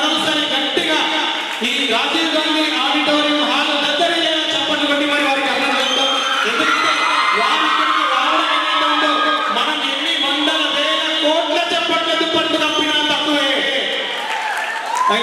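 An audience claps in the Rajiv Gandhi auditorium hall during an awards ceremony for artists held by Sangeet Cultural Academy, with steady sustained applause all the way through and a voice speaking over it.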